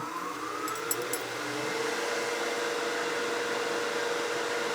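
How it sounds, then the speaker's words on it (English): A woodturning lathe running at full speed, about 3000 RPM, while polishing an acrylic turning: a steady, even whir with a faint rising tone, close and alone, with a few light ticks near the start. "I'm going to turn the lathe speed all the way up. So I'm going to be about 3000 RPM"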